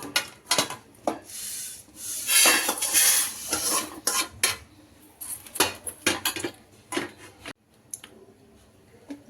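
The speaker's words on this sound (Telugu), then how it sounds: "ఇవంతా బాగా డ్రై రోస్ట్ చేసుకోవాలి." Spices dry roasting in a pan for coriander tomato chutney, with continuous scraping and rattling as a spatula stirs them, close and fairly loud, in irregular bursts with short pauses.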